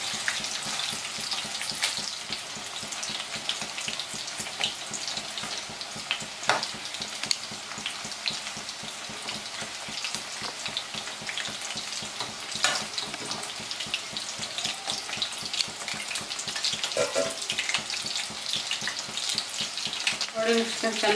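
Sesame-coated chicken kabab pieces fry in hot oil with a steady, dense sizzle and occasional stirring clinks, close and fairly quiet, with no talking.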